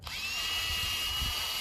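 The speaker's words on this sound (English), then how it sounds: "put my drill in drill mode and hammer mode" A hammer drill set to hammer mode bores into a van's roof, giving a continuous, loud, close whine with a rattling low-end chatter throughout and no talking.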